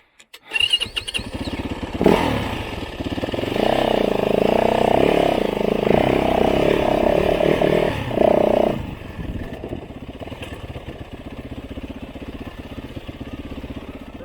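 Motorcycle engine chugging at very low revs on a first ride on a new bike, a loud, steady rumble that swells for several seconds and then settles to a quieter, lumpy idle.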